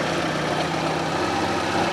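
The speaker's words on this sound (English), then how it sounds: "Slight exhaust gas leakage." A Fiat Panda 4x4 engine idles steadily up close with a slight exhaust leak, giving an even low chugging rumble with a faint puffing, ticking edge and no talk over it.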